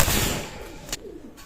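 A single male Lakha pigeon gives a short, low coo close by, followed by a brief soft thump and quiet.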